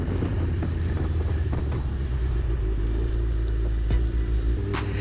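A Suzuki Hayabusa motorcycle out on its first careful ride after winter storage, a steady deep engine rumble mixed with wind buffeting on the microphone, constant and close.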